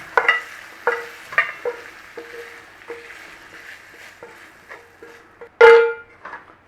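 Sausage meat goes into a hot pan, giving a soft sizzle under repeated clinks and scrapes of stirring and pressing, ending in a louder metallic clatter close by.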